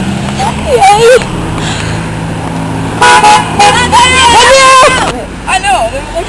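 Several car horns honk in a busy outdoor crowd scene, with bursts of tooting over traffic and loud voices and cheering throughout.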